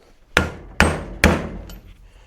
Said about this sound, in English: I just personally use a socket with something similar and something that's a hammer.